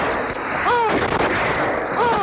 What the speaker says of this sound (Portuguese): vai ser disparada uma salva de 3 tiros